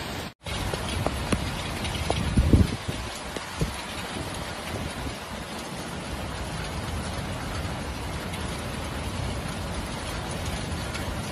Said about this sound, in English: Heavy rain and hail came suddenly, resulting in low visibility on the road.